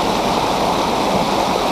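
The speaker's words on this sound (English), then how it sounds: "See behind me, the river is flowing." A river in North Carolina flowing nearby, a loud, steady rushing wash of water with no breaks or talking.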